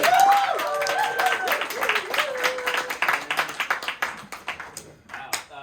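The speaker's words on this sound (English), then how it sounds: "I'd like to give a round of applause for our audience this evening" A comedy show audience gives a round of applause, with close, crisp clapping and a few voices and whoops over it. The claps thin into scattered taps that fade out.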